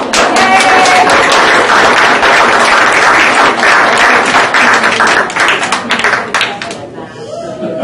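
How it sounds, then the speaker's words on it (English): Loud, close audience applause after a presentation, a dense roar of clapping with some voices mixed in, holding steady before thinning out toward the end. "You can clap."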